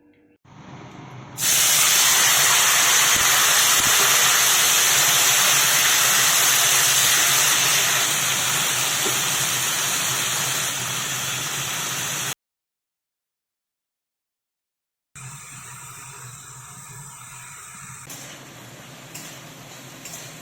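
Oil sizzles loudly in a pan while a small amount is added for cooking boiled lata (stem vegetable) with rice, salt, turmeric and chilli powder; a steady hiss lasts about eleven seconds, cuts out, then returns quieter.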